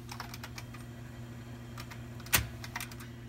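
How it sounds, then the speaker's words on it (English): Quiet, scattered taps of someone typing on a computer keyboard over a steady low electrical hum, with one sharper louder click near the middle. "Except for my typing over here."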